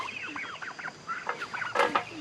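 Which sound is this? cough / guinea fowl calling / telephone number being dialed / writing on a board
guinea fowl calling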